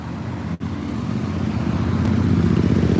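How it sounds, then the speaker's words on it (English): A yellow Lamborghini drives past on a Tokyo street, its engine a low, steady rumble rising gradually over distant traffic noise, heard from a rooftop above the road. "Oh, here comes a yellow car."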